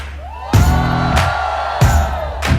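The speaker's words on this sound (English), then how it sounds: "A big round of applause, ladies and gentlemen, to the panel on stage." Bursts of crowd whooping and cheering rise in short waves, loud and close, with voices swelling and falling repeatedly.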